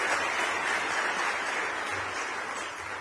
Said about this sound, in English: One more round of applause for the,